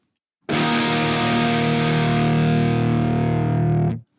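A single sustained distorted guitar chord through a Nembrini Audio 8180 metal amp plugin, rumbling knob at position 5, rings for about three and a half seconds, thick and saturated with heavy low end, then cuts off abruptly.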